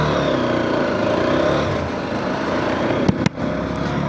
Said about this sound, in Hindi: अब बाइक 1 सेल्फ में स्टार्ट हो गई है।